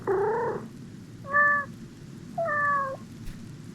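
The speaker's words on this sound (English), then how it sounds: "Oh, I can meow." Three separate cat meows from a game character, the first longer, then two shorter ones, each loud and clear against quiet background noise.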